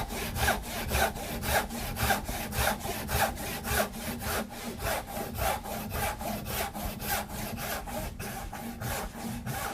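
A hand saw cutting tenon cheeks in hard, dry wood, rasping back and forth in a steady even rhythm of strokes, close and moderately quiet, with no voices.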